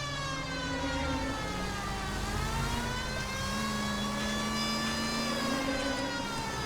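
A police siren from the video game L.A. Noire, a continuous wailing tone that rises and falls steadily over engine hum and stays fairly faint throughout.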